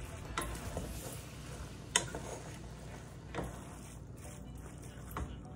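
Potatoes cook in a pan over medium heat for beef empanadas, giving a quiet steady sizzle with a few faint clinks and scrapes.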